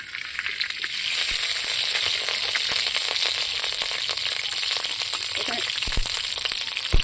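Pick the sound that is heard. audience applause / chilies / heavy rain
chilies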